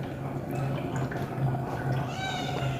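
A cat meows softly several times amid a low background hum and faint clinking at a meal, fairly quiet and close by.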